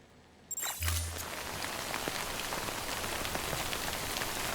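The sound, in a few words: rain falling in the video game Death Stranding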